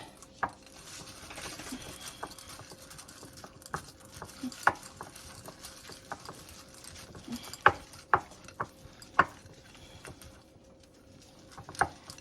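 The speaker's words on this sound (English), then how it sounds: "I'm going to stir this up a little bit." A utensil scrapes and taps around a bowl, stirring a puppy chow mixture in soft, irregular strokes, with a few sharper clicks against the side, close and fairly quiet.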